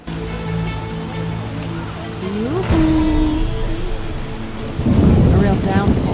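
Heavy rain downpour with thunder in The Witcher video game, a steady loud wash of rain with a deep rolling rumble swelling near the end, along with tonal game sounds and a voice in the mix.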